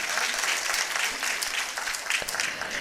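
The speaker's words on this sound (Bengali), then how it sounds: "জোরে আর একটা করতালি" An audience at a community cultural gathering claps loudly and steadily in a dense, close round of applause that fills the whole moment without voices.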